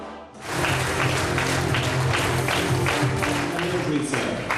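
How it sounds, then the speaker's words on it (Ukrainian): A standing hall audience applauds soldiers of Ukrainian special police units in Mykolaiv, a loud, steady, dense wash of clapping that starts abruptly and holds for several seconds. "стоячи зал, аплодував героям"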